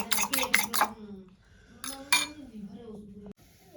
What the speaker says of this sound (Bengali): ভালো করে ফেটে দেব।